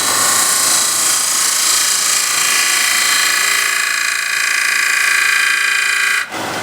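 A power tool whines steadily and loudly at close range while taking a light cutting pass on wood, a continuous high-pitched hum with faint rasping, then cuts off abruptly just before the end.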